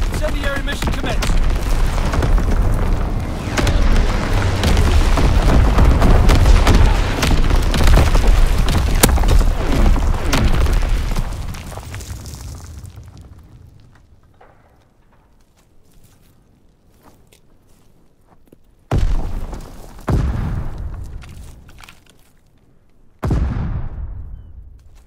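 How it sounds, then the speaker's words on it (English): Incendiary bombs from a low-altitude bomber strike in Call of Duty WWII, producing a long, loud, rumbling barrage of blasts and fire that fades out, followed by a few sharp, isolated bangs. "Low altitude bomber inbound. Incendiary mission commenced."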